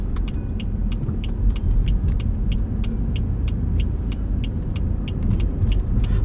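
A car on the road gives a steady low rumble of engine and road noise from inside the cabin, with faint repeated high ticking over the drone.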